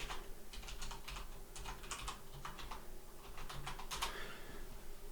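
A password being typed on a computer keyboard: quiet, quick key taps in irregular clusters over a low steady room hum.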